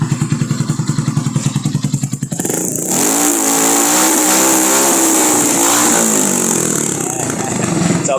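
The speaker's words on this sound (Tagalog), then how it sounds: "ganun kalakas yung ating tambucho" A vehicle engine revs hard through a loud aftermarket exhaust: pulsing rapid firing at first, then a sustained high roar with rising and falling pitch, close and loud throughout.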